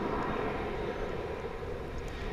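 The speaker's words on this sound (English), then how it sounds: "737-900 is on its way to the City of Angels in Los Angeles" Boeing 737-900 departing Dallas/Fort Worth airport for Los Angeles, a faint, steady distant jet engine roar with a broad hiss and no other sounds.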